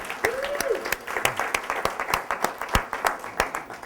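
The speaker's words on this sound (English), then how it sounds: "I give a huge round of applause to Mel." Audience applause for a guest at a networking talk, with distinct individual claps standing out in a loose, uneven rhythm from a modest crowd, close and fairly clear.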